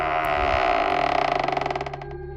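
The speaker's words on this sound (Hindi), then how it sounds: "दरवाजा अपने आप खुल जाता है।" A door creaking slowly open on its own in a haunted mansion, a drawn-out groaning creak that breaks into a rapid stuttering rattle of creaks before fading, alone and close.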